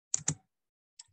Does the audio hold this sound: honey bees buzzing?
no